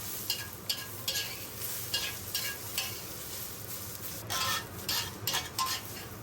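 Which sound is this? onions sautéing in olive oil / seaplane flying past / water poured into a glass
onions sautéing in olive oil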